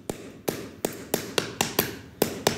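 A hammer tapping repeatedly to break something open indoors: about nine sharp, close knocks in quick, uneven succession, with no talking.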